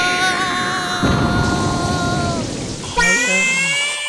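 Cartoon storm effect of rushing wind and pouring rain, a steady loud wash with a bright whistling gust swelling near the end, heard alone without talk.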